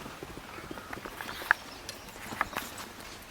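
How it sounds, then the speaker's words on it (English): An upset horse nearby stamps and shuffles, irregular hoof clops and thuds scattered over faint background noise, with two sharper knocks standing out. "Gee, the neighbour's horse is going nuts"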